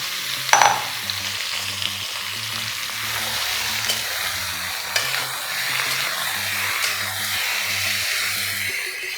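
Chicken frying with tomatoes and chillies in a pan gives a steady, close sizzling hiss, with a sharp clatter early on and occasional utensil scrapes and taps.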